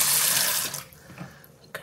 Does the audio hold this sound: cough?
no